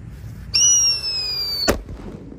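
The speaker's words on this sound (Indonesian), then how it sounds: "Kita nyalakan Happy Power 3 di lubang tanah." A Happy Power 3 firecracker in a hole in the ground gives a loud, steady whistling shriek for about a second. It ends in one sharp, close bang, and the ground is quiet on either side.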